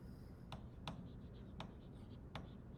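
Pen writing by hand on paper during a geometry lesson, a steady scratchy stroke broken by a few sharp taps as the pen lands, close and fairly quiet, with no voices.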